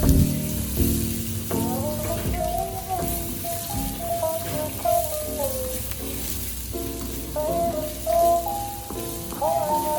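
Green beans and carrots stir-frying in a pan with fried aromatics, for simple fried rice, a steady loud sizzle with scraping stirs, while background music plays over it throughout.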